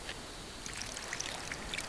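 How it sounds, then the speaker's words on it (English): Water poured onto dry earth in the fantasy adventure game The Book of Unwritten Tales, a soft continuous trickling with small splashy droplets, quiet and steady, no talking. "So I'll pour some water on the dry earth."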